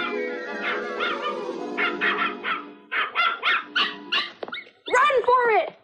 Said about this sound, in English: Make that little dog shut up.